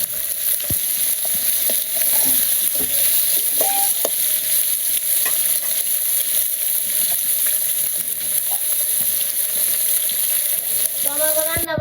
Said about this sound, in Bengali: আজকে রান্না করছি শাক ভাজি আর ওই যে মাছের তরকারি